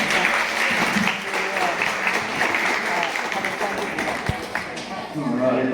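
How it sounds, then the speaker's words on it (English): Applause from a crowd of spectators at a farm show sheep demonstration, steady clapping filling the whole stretch at close range, with voices talking over it. "Just give it a clap."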